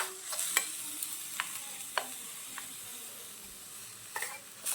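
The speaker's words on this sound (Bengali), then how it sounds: "আমি এখন নুরায়ার সামাইটা একটু নাড়াচাড়া করে দিচ্ছি, হালকা একটু লাল লাল করে দিচ্ছি ভেজে" Papaya vermicelli stirred and fried in a miniature pan, a soft continuous sizzle broken by sharp clicks and scrapes of a small utensil against the pan, close and quiet with no talking.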